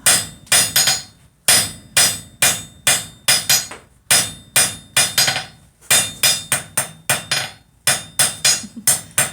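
Rapid, ringing hammer blows on hot metal at an anvil during forging, struck in quick bursts of several hits with brief pauses between, loud and close.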